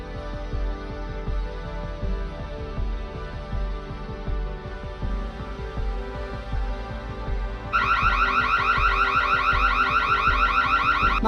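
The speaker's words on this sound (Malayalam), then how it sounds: "ഈ ഒരു ലൈനിൻ്റെ ഇടയ്ക്ക് ആരെങ്കിലും പാസ് ചെയ്ത് പോയി കഴിഞ്ഞാൽ തന്നെ ഇവിടെ അലാറം ട്രിഗർ ചെയ്യപ്പെടുന്നതാണ്." A wired home automation system's infrared beam intrusion sensor trips its alarm, a loud pulsing electronic siren that starts abruptly partway through and repeats rapidly over a steady hum.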